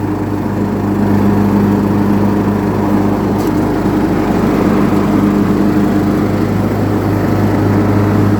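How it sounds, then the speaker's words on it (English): Loud, steady engine drone of a Craftsman LT2000 riding lawn mower running close by, with a constant low hum and no talking. "free lawnmower."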